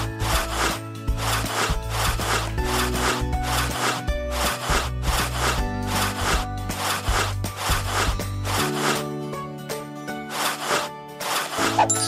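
Rhythmic rubbing and scrubbing effects from a home-cleaning mobile game, repeated strokes over an upbeat music bed with steady tones, no talk.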